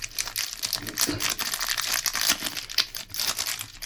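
Plastic trading card sleeve crinkling and crackling while being handled, a dense run of close, fairly loud rustles with brief sharper crinkles, no voices.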